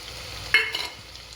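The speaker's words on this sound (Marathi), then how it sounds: "पेस्ट चांगली आपल्याला परतून घ्यायची आहे." Spice paste for matar pulao is sautéed in a pan. A single short utensil scrape sounds over a faint, low sizzle, close and brief.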